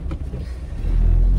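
A car on a delivery run gives off a steady low engine rumble inside the cabin, swelling louder near the end as it picks up speed, with no voices.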